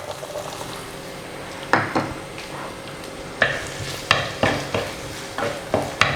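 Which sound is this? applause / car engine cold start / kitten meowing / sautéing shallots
sautéing shallots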